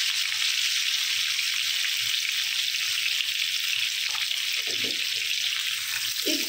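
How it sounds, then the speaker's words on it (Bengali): Pointed gourd (potol) pieces fry in oil with salt and turmeric, a loud, steady, close sizzle throughout with a few soft stirring rustles near the end. "আর সামান্য হলুদ দিয়ে এই পর্যায়ে পটলগুলোকে ভেজে নেব।"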